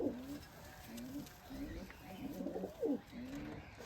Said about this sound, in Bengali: নটটি ডাকছে ওইদিকে